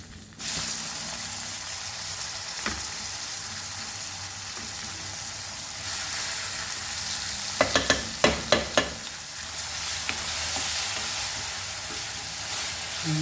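Chopped tomatoes go into hot oil with garam masala for moong dal khichdi, giving a steady loud sizzle and frying hiss, with a few sharp clatters of stirring near the end.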